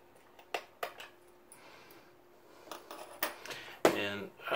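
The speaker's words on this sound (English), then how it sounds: "basically I'm just going to take these screws out" Screws are backed out of the underside of an HP Envy 17 laptop, a string of faint small metallic clicks and ticks in a quiet room, with soft handling noise between them.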